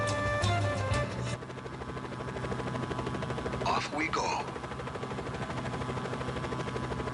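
The thumping drone of a video game helicopter's rotor runs steadily beneath a brief spoken line, with a few sharp bursts partway through.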